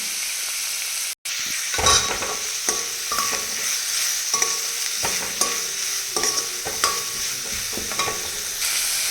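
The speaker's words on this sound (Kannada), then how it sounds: "ಇವಾಗ ಆನಿಯನ್ ಬಾಡಲಿ ನೀಟಾಗಿ ಸ್ವಲ್ಪ ಸಾಲ್ಟ್ ಸೇರಿಸ್ಕೊತೀನಿ" Chopped onions sautéing with salt in a pan for poha, a steady close sizzle broken by repeated scraping stirs of a spoon against the pan.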